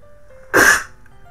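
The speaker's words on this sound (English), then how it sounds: "Shotgun sneeze." One sudden, loud, explosive sneeze bursts out close by, then quickly fades into quiet.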